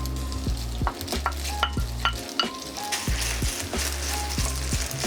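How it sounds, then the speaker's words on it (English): Chashu pork sizzles loudly in oil in the cleared centre of a pan of Japanese fried rice, with a steady fry and several quick metallic stirring taps and scrapes over it. "Let the chashu fry a bit before we stir it in."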